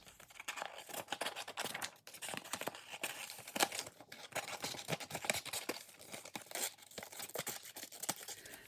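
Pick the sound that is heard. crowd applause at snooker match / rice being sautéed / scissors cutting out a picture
scissors cutting out a picture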